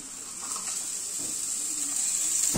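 Steady, bright sizzling of green onion dropped into a pan with fried fish for arroz chaufa, a continuous close hiss with faint stirring sounds and a knock near the end.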